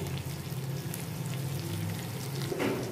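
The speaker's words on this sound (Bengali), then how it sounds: "ক্যাপসিকাম কুচি আর একটু টমেটো কুচি, একটু হালকা ব্রাউন করে ভাজব।" Chopped capsicum and chopped tomato fry in a pan, giving a steady close sizzle throughout with soft stirring scrapes and a brief louder crackle near the end.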